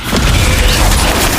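Confringo spell explosion in Hogwarts Legacy, a single loud, booming blast that fills the whole brief moment, close and rumbling with no talking.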